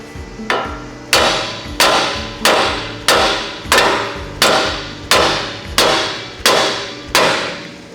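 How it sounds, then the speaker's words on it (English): A hammer strikes the side of a Toyota 4Runner's ball joint eleven times at a steady, roughly one-per-second rhythm, each sharp loud metal blow ringing briefly before the next. "You can either use a ball joint splitter or a hammer. And just hit right here on the side."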